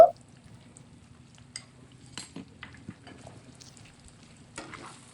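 Pork with turmeric and cumin paste fries quietly in a pan while a utensil stirs it. Soft, scattered scrapes and clinks come over a low, steady sizzle, close and fairly faint.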